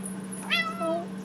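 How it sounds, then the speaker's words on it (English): A cat gives a single drawn-out meow, close and fairly clear over a steady background hum, while paper crafting goes on nearby. "And if you hear a kitty,"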